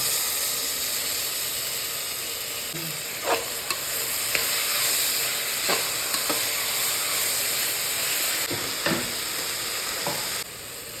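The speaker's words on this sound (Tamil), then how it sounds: "அரைச்சி விழுதுகளை ஊற்றிக்கலாம்." Ground spice paste is poured into a hot pan with potatoes and green peas for a vegetable biryani, giving a loud, continuous sizzle and frying hiss with occasional sharp stirring clicks and no talk.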